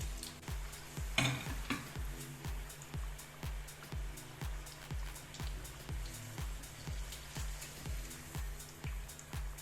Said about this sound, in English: Next we'll fry the Irish potatoes.